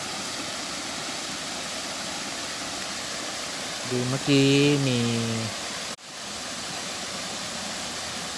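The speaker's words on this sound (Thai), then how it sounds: "ทักว่ามีเสียงน้ำตกก็เลยเดินมาดูครับ" Water overflowing in a bamboo forest makes a steady, broad rushing roar like a waterfall, close and continuous throughout, with someone talking briefly in the middle.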